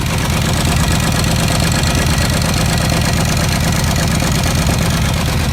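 A Kawasaki KVF 650 ATV engine runs at a steady idle inside a garage, loud and close, with a constant rapid mechanical chatter and no voices over it.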